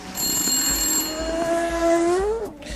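A telephone rings with an electronic warble for an incoming call on the French TV show Auto-Moto, steady and fairly loud over studio background with no talk.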